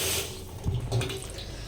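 Water splashes and pours in a brief close burst onto a tulsi plant, a soft liquid gush rising and settling within a couple of seconds, with no talking.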